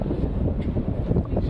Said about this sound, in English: so that wind is gusting